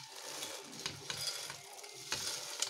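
Fried boondi pearls tipped into sugar syrup and stirred, a faint, close wet sizzling and scraping with small clinks of the spoon against the pan, steady and quiet throughout.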